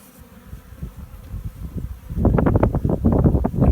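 Honey bees buzzing around an open hive frame during an inspection, a close droning hum that swells louder partway through, mixed with wind noise and rustling.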